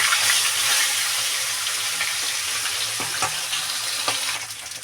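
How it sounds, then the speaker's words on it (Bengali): Tilapia fish fry in hot oil in a pan with a constant crackling sizzle and a few sharper pops, close and without talk. "মাছগুলো ভেজে নেব বড় বড় মাছ তাই আমি সবগুলো দেবো না দুই করে ভেজে নেব"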